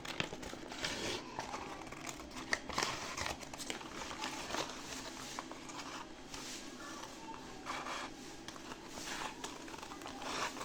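Scissors trimming a paper pattern for simple men's and boys' slippers, giving a steady run of close crinkling paper snips and rustles with no talking.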